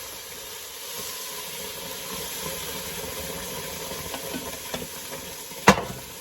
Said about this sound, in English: Now I'm going to add in some tomato passata